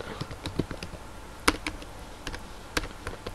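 A command being typed on a computer keyboard, quick soft key taps in an irregular rhythm with a couple of sharper clicks, close and fairly quiet.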